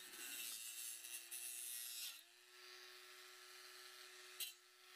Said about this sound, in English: I'm cutting here through 20 mil of wood